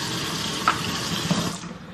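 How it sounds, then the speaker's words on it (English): Warm water is poured into sugar and cocoa powder, a short, soft splashing trickle close by, with a couple of faint clinks. "I'm gonna add a cup of warm water to dissolve the sugar and the cocoa powder."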